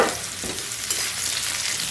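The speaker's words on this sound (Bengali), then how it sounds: "দেখো ঝিঙেটাও কিন্তু এখানে ভাজা হয়ে গেছে।" Steady, close sizzling of ridge gourd frying in a pan, with stirring scrapes and no voices.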